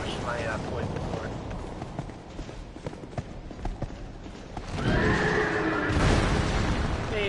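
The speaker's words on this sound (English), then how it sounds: "the chariot horse does quite a bit of damage if it actually hits you" A chariot horse in a video game neighs in shrill whinnies, once early and again louder near the end, over rumbling booms, hoof clatter and busy game noise.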